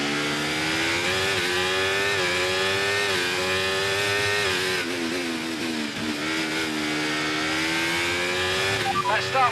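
Racing cars in the F1 24 video game accelerating off the start line at Baku, loud layered engine whine rising in pitch through gear changes, with a voice speaking over the roar.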